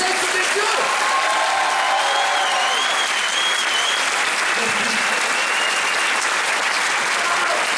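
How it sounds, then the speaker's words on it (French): An audience at the Tokyo Game Show breaks into sustained, dense applause filling a large hall, with scattered cheers and whistles riding on top of the steady clapping throughout. "je vous demande d'applaudir, mesdames, messieurs,"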